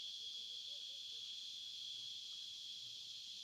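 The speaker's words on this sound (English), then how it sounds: "It sounds very much like cicadas, which is an insect, an arthropod." Cicadas at a waterhole give a steady, high-pitched droning buzz, unbroken and fairly faint, with soft low background sounds beneath.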